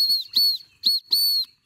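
A small whistle built into a survival multi-tool fire-starter pen gives four short, shrill blasts in quick succession, loud and close, with brief silences between them.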